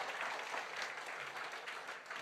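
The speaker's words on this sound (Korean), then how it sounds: "박수 한번 합시다" A church congregation at a Sunday worship service claps together, a faint, fairly distant wash of hands that keeps going through the whole brief moment.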